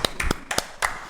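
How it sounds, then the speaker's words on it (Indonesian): Children clap their hands for Jesus during an online Sunday children's worship service, giving a few scattered, uneven claps in short bursts rather than sustained applause. "Sekali dong tepuk tangan buat Tuhan Yesus adik-adik."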